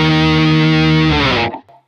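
Electric guitar run through a pedalboard with no doubler engaged: a loud, heavily distorted sustained chord ringing for about a second and a half, then cut off abruptly into near silence.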